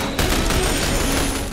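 Sustained rapid turret fire in the shooter The Bureau: XCOM Declassified, a dense, continuous mechanical rattle of automatic bursts holding steady and loud through the short stretch.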